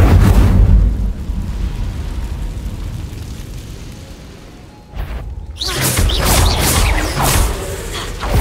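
Casting the Incendio fire spell in Hogwarts Legacy bursts into a loud, roaring fiery whoosh that rises suddenly after a brief gap and keeps crackling to the end, following a rumbling stretch of game sound at the start.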